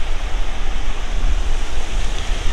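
Sea waves wash on a shore at outgoing tide, a steady broadband rush of surf with rumbling low end and some wind, continuous and fairly loud with no voices.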